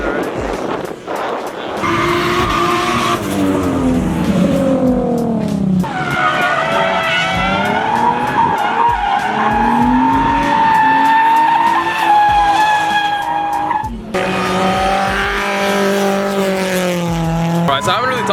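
Cars drifting at a drift event, including a 350Z and a V8 240SX running tandem: loud sustained tire squeal and revving engines rising and falling for the whole stretch, close by, with rough wind noise mixed in.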